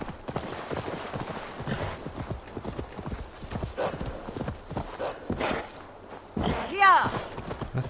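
Rhythmic hoofbeats of a horse galloping in the video game Assassin's Creed Valhalla, a steady clip-clop running throughout with a whinny near the end, while someone talks over it.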